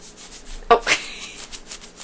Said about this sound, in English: It makes a really funny like air noise when I squeeze it.